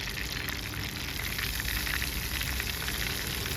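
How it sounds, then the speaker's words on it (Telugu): Washed fish pieces frying in oil in a kadai, giving a loud, steady, close sizzle and crackle that continues without a break and with no talking. "కళాయి పెట్టుకొని ఆయిల్ వేసి చేప ముక్కలు బాగా కడుక్కున్నాక ఆయిల్లో ఫ్రై చేసుకోవాలి"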